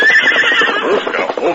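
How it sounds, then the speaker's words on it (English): A horse whinnies loudly as it pulls up short, a radio-drama sound effect with a long, wavering neigh running over faint hoofbeats and close, dense background sound. "the two horses approached the towering rock, Silver unaccountably sensed the nearness of peril."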